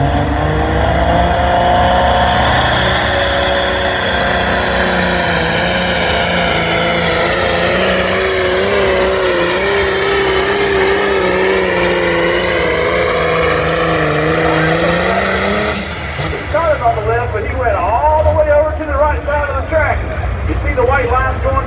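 A tractor engine roars loudly during a truck and tractor pull at a county fair, a sustained heavy drone whose pitch rises and falls as the machine pulls the sled before cutting out, with an announcer talking over it.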